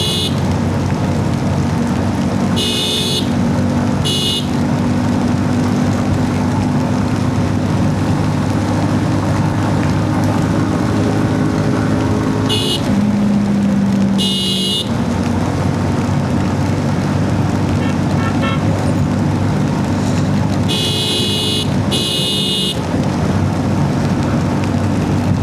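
A Suzuki Gixxer motorcycle rides along a highway in traffic, with constant loud wind roar and road rumble, a steady engine drone and a few passing vehicle bursts.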